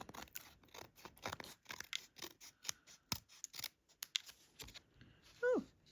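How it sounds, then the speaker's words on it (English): Scissors snip along the edges of a handmade Valentine card, a quick run of close, crisp cuts with short rustles between them, ending with a brief squeaky scrape. "I'm just going to trim off the sides here."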